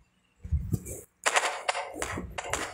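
Video game gunfire in a Thai mob-clearing session, a rapid string of sharp close shots in two bursts after a brief dull thump, loud and clipped.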